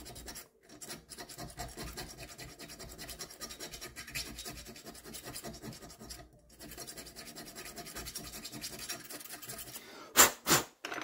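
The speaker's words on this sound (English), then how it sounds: "The needle file." A needle file rasps back and forth across a homemade metal nipple wrench to remove burrs, a close, quiet, steady scratching with rhythmic strokes, brief pauses, and a couple of sharper scrapes near the end.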